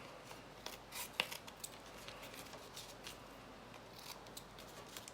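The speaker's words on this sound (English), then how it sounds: "Now from the reverse of the card, cut it." Scissors snip through card from its reverse side in a papercraft session, producing quiet, close crisp cuts and rustling, spaced irregularly with one sharper snip near the start.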